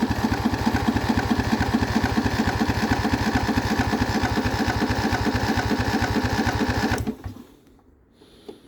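A Yard Pro YT-16 riding lawn mower engine on a cold start, cranking and chugging in a fast, steady mechanical rhythm up close for about seven seconds before abruptly cutting off into near silence.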